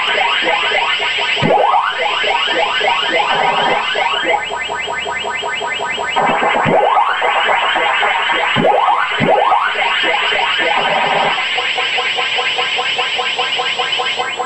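Ms. Pac-Man death sequence on the Sega Genesis, a loud continuous electronic beeping and warbling with repeated sweeping chirps, steady throughout and free of talk.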